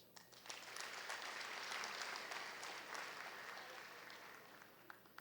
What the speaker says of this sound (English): So make sure to give yourselves a big round of applause.